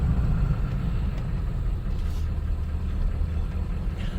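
Lawnmower engine running while mowing tall grass around a flatbed trailer, a steady close low rumble that drones on without a break.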